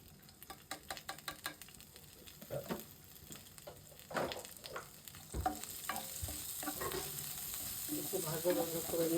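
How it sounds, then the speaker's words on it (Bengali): Onions frying in a little fish oil for a rohu fish and eggplant dish, with soft sizzling under repeated stirring and scraping clicks that grow busier and louder toward the end. "একটু ভাজা ভাজা করে নিয়ে পেঁয়াজটা"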